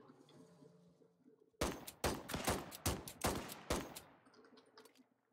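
Rapid gunshots ring out in the Wild West Online video game, a burst of about eight loud, sharp cracks fired in quick succession after a quiet lead-in, with faint game ambience underneath and no talking.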